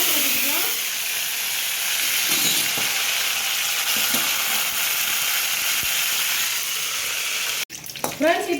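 Mustard seeds and curry leaves sizzling in hot oil, a loud, steady hiss with small pops and crackles, close up, briefly cut off near the end before spattering resumes.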